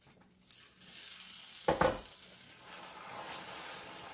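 A spoon stirs a hot peanut or cashew brittle mixture just after baking soda goes in, giving a soft bubbling sizzle with a couple of brief scraping strokes against the pot, quiet and close.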